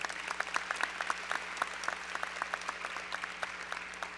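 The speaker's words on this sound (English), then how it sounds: "will you please give them a round of applause and thank them" Audience applause at an MLK celebration event, honoring a pastor and choir; steady clapping from a moderate-sized crowd, fairly distant, with a few louder individual claps standing out through the whole stretch.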